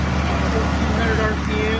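A Ford 8000 tractor engine runs in third gear on dual power at 1400 RPM while baling hay, a steady loud drone that holds through the whole stretch with talk over it.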